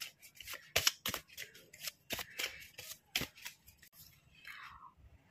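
A tarot card deck with a unicorn design is shuffled close by, making quiet, crisp riffling flicks and soft snaps in irregular bursts with no talking.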